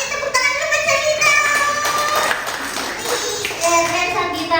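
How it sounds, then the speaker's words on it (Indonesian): Children clapping their hands together in a group round of applause, a dense close patter of claps with young voices speaking over it throughout. "tepuk tangan dulu buat Sabita."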